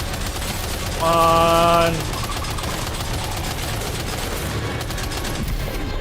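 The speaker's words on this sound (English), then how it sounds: "Opening fire now." Video game gunfire bursts out as one loud, rapid automatic volley lasting about a second, set against a constant noisy game background with a voice speaking.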